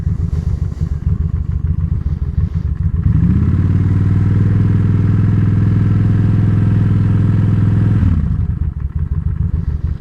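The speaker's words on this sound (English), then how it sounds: "I'm going to give it a little bit of gas. I'm going to roll on the gas." A carbureted motorcycle engine idles with a clattery lumpy beat, then revs up as the throttle is rolled on, holds a loud steady drone for about five seconds, and drops back to idle.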